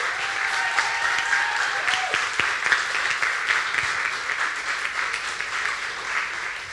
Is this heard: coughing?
no